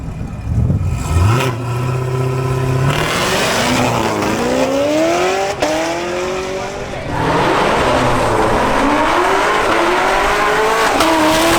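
A Chevrolet Camaro ZL1 does a burnout at a drag racing event, engine revving hard in rising and falling sweeps with tires squealing continuously, loud and close, while a voice talks over it.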